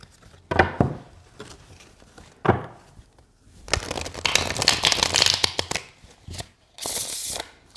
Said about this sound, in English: I just kind of want to make sure we're getting multiple shuffle styles here.